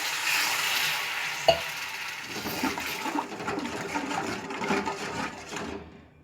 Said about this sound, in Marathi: आता याच्यामध्ये आपण पाणी घालून घेणार आहोत।